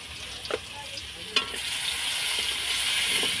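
Cumin powder frying in a pan over a wood-fired clay stove in a Bengali village kitchen: a steady sizzle with a few sharp utensil clinks near the start.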